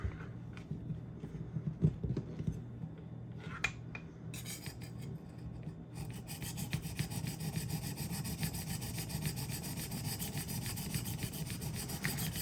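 A knife blade is worked on a 400-grit diamond rolling sharpener, giving a gritty, rasping scrape that repeats in strokes and then turns into a steadier, brighter abrasive hiss, close and moderately quiet with no talking.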